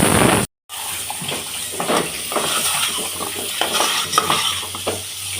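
A spoon stirs pumpkin pulusu cooking in oil, giving scraping and clinking strokes over a soft sizzle for several seconds after a brief silent gap near the start.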